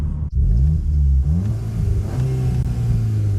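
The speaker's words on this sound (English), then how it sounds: "You can see there is a little bit of turbo lag while it spools up." A turbocharged 2023 Cupra Leon Estate engine revs up and accelerates, its low droning tone rising in pitch as it shifts through gears, loud and steady throughout.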